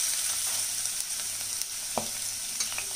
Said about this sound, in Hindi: उसके बाद डालेंगे लहसुन जो मैंने कूटा है